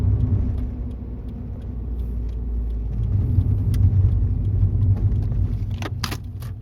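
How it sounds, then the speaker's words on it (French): A 2003 Toyota Yaris TS engine drones steadily with a low rumble, rising in intensity midway as it accelerates through the gears, with a few faint clicks and rattles near the end. "à n'importe quel moment où on passe la vitesse, le moteur on l'entend"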